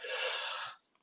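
A single sneeze, close and forceful, a sharp breathy burst lasting under a second before the room falls quiet.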